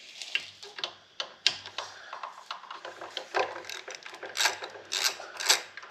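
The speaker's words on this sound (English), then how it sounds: "let's take this Kickstarter off and swap it out. Grab a wrench here." A ratchet wrench works loose the kickstarter bolt on a Yamaha SR500 motorcycle, giving a rapid series of close, sharp metallic clicks in uneven bursts.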